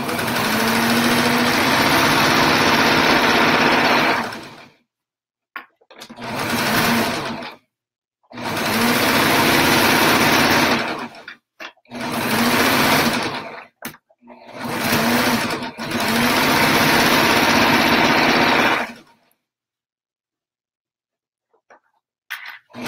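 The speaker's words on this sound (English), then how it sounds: "I'm going to sew this one in place really quick" A sewing machine stitches a rag quilt in close, loud bursts, running about four seconds, then several shorter runs of a second or two separated by brief silences, ending with a longer run.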